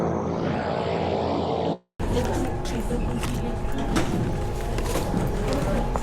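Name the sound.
propeller airplane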